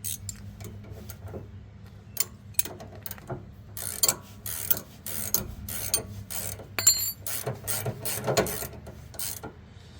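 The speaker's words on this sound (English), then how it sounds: "put the nuts on the sway bar links and torque these down to 25 to 30 is what it calls for" Ratcheting wrench clicks while nuts are torqued down on the sway bar end links of a Ram 1500 pickup during a Hellwig rear sway bar install, with irregular bursts of close mechanical ticking and occasional metallic knocks.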